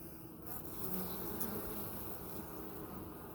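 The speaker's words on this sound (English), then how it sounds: "These bees here are being real calm." Honey bees in an open hive, a dense, steady, close buzzing drone of many insects, continuous and fairly quiet, with no talk.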